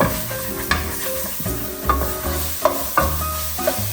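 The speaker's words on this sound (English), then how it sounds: "I'm going to scrape off some bits here." A utensil scrapes bits of paste across a hot pan, the scrapes coming in quick irregular strokes over a steady close sizzle of frying.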